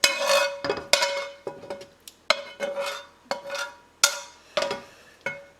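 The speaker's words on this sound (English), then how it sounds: "just go on ahead and dump the rest of that seafood in there." Seafood for pasta dumped into a pan and stirred, with repeated loud scraping and clattering strokes of a utensil against the pan in uneven bursts, close up and without talk.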